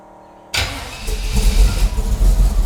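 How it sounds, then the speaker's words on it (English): A 1955 Buick V8 engine fires up after a silent pause, catching instantly with a sharp burst and then settling into a loud, rumbling idle with low, uneven pulses. "All right, we're gonna fire it up, here we go."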